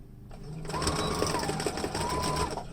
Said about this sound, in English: I'm going to put my presser foot down, back stitch